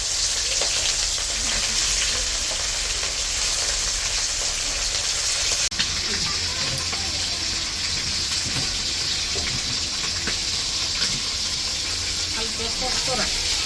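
Hilsa fish pieces fry in a pan with a steady, dense sizzle and crackle that runs throughout, close and loud, with faint stirring sounds partway through.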